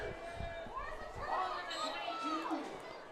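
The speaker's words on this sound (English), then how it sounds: "The crowd saying they want a turnover to be forced" High school football crowd at West Branch vs. Wilton chanting together for a forced turnover, a steady roar of many voices rising and falling around the field.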